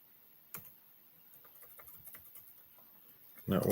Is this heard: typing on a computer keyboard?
yes